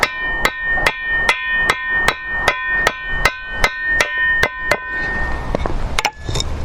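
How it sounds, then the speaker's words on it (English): Steel hammer blows shaping a rivet made from a nail in a workshop, about a dozen sharp, evenly spaced ringing strikes close up, then a few softer, scrappier taps at the end. "Keep the hammer moving all the way around the edge, and a few strokes in the center."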